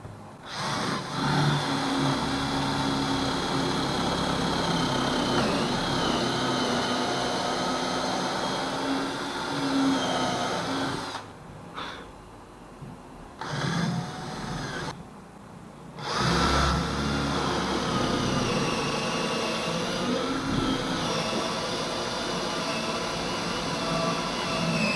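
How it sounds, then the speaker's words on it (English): Angle grinder taking weight off a steel Daruma-style Japanese hammer head, a loud sustained whining grind over long passes, broken by two brief drops where the tool comes off the work. "I can grind off some bits in there."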